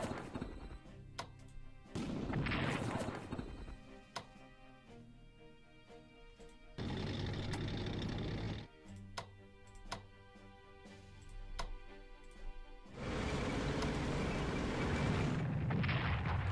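Artillery strikes in the World War II strategy game Strategic Command: World at War, heard as three heavy bursts of booming, crashing noise, each lasting a couple of seconds, separated by quieter stretches of game ambience.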